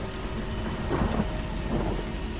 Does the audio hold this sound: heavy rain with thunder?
yes